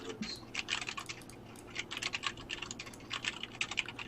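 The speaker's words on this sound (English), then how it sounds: "You're typing up an essay." Rapid typing on a computer keyboard, close and crisp, with bursts of clicking keystrokes separated by brief pauses.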